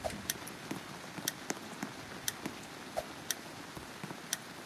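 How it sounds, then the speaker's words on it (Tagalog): Rain falls in a Roblox hide-and-seek game, a soft steady patter broken by sharp, evenly spaced ticking drops, faint and with no one talking. "Ulan na ulan."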